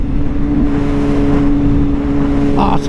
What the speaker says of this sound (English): Man, that pipe sounds so good. Down on the quick shifter, no clutch.